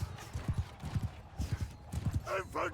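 Galloping horse hooves from the Mount & Blade 2 Bannerlord video game, a steady rhythmic clip-clop of repeated beats close up, with a brief horse whinny near the end and no talk.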